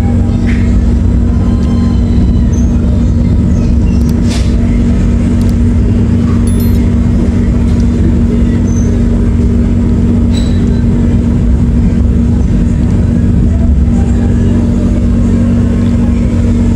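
A loud, continuous rumble of the KA Menoreh New Generation passenger train rolling along the tracks at Pekalongan station, Indonesia, with a steady low hum and occasional faint squeaks and clatters, heard from inside.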